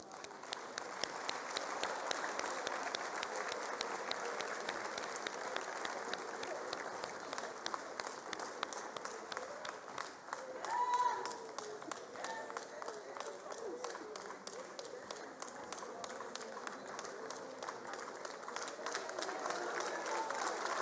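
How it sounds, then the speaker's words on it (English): An audience at the matric results announcement applauds the top learners, a long stretch of steady, fairly distant clapping with an announcer speaking over it. "please give them a round of applause"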